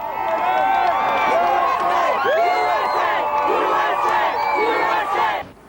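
A huge crowd cheers at the Desert Storm victory parade in New York, a roaring wall of voices with rising whoops and yells layered over one another, loud and sustained until it cuts off.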